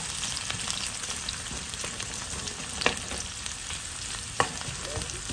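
Onions fry in a pot for a carrot stew, giving a dense, even sizzle and hiss close by. Two brief clinks of a utensil stand out, and no one speaks.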